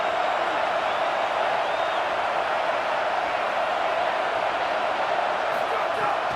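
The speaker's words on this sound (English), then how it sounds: "Listen to this crowd." Stadium crowd at a football game roaring in a steady, unbroken wall of cheering noise, loud and distant-sounding, with no distinct voices standing out.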